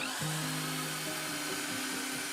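A drill spins a wire brush attachment against an old rusty iron, giving a continuous dense whirring scrape with shifting tones throughout.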